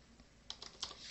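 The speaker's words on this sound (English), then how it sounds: "I'll actually just go in and type" A few quick computer keyboard keystrokes, three or four crisp, close clicks in the second half over faint room noise, with no talk.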